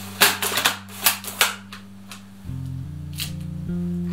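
Speed Graphic press camera shutter fires with a few sharp mechanical clicks and clacks, close and distinct, over a low steady hum, followed by softer handling sounds.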